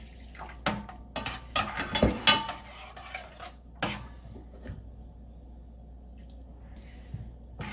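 Water splashes and pours into a pot of simmering papaya chutney with clinks of metal cookware, bursts of clatter early on, then quieter trickling and drips nearby.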